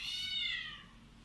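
A cat gives a single drawn-out meow, fairly close, that slides down in pitch and fades, with a faint steady hum from a GPU mining rig underneath.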